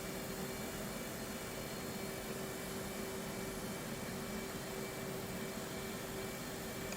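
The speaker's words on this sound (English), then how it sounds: "And that is going to just start left engine." An F/A-18C's left jet engine hums during a cold start in DCS, giving a steady, quiet whine over a constant airy rush that holds even throughout.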